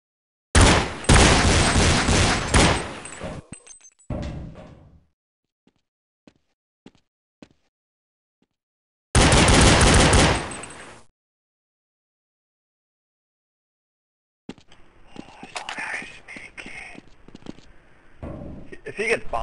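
Video game gunfire comes in two dense, loud bursts of rapid shots separated by near silence, followed by scattered sharper shots and clatter toward the end.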